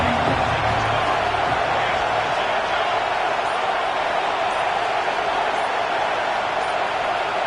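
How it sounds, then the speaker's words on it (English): A stadium crowd roars at a rivalry football game, a dense, steady wash of noise that holds at full volume for the whole stretch with no break or single voice standing out. "with this place rocking, the crowd forces a false start"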